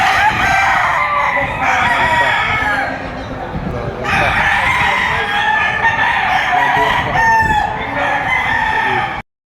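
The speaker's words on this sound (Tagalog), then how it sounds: "Pakarami ang manok dito na sa scratch pin" Roosters crow repeatedly and chickens cluck at a gamecock market in Padre Garcia, a dense, loud chorus of overlapping calls from several birds near and far, with some voices talking in the background.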